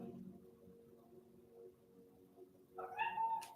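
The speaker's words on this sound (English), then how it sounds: "I'm going to go do something for my cat so that she shuts up." A house cat meows once, fairly close and clear, near the end after a quiet stretch of low background hum and faint murmur.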